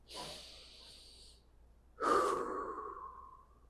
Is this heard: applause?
no